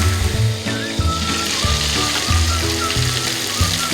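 Chicken tikka pieces fry in a covered pan over the flame, giving a loud, steady, close sizzle with crackling pops that continues without a break.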